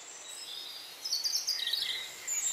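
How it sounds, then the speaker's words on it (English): English dawn chorus with several birds singing, high chirps and warbling phrases overlapping over a soft outdoor hiss, clear and moderately near. "The dawn chorus in England begins about an hour before sunrise."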